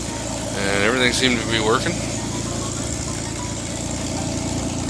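The rebuilt Waukesha engine in an Oliver 1800A tractor runs on its first start, a steady, loud, close idle rumble with someone talking briefly over it near the start.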